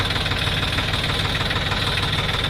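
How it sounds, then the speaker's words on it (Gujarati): A tractor engine runs steadily and close by, with a continuous knocking diesel throb that holds at the same loudness throughout. "ટ્રેક્ટર વાહે આવે છે."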